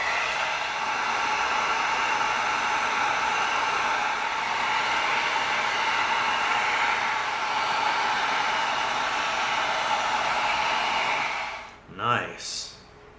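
Heat gun blowing hot air over EVA foam to seal it, a steady loud whooshing hiss that runs continuously and then cuts off near the end, followed by a couple of brief handling sounds.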